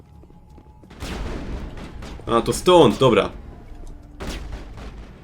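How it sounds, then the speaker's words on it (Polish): Gunfire in the video game Mass Effect, with short bursts of shots and sci-fi weapon effects over a steady game background while someone talks in Polish. "Jeszcze gdzieś się słychać te strzały."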